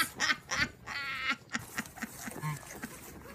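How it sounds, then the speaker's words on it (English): Ducks quack repeatedly while eating popcorn alongside goats, a series of nasal, raspy calls at close range with scattered shuffling noises between them. "Even the ducks."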